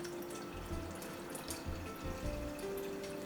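Water pours into a cooking pot of dal with turmeric powder in a home kitchen, a continuous splashing and gurgling stream, close and steady throughout, with no talking.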